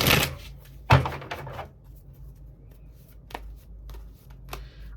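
Tarot cards being shuffled give soft riffling bursts and taps at irregular intervals: one clear flurry near the start, then scattered lighter flicks, close up, with no talking.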